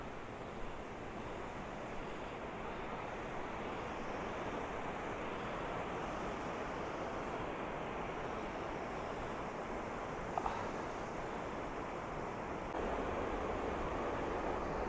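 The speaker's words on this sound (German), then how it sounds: "Haben wir jetzt Wasserfall." A waterfall pours into a wet gorge in the Black Forest, a loud, continuous broadband rush that holds steady and close for the whole stretch.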